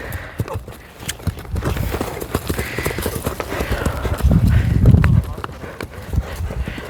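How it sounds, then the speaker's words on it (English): A rescue horse trotting under a rider, steady rhythmic hoofbeats close by with saddle and tack creaks, a louder thudding stretch near the end, and voices faintly underneath. "and doing a nice smaller trot"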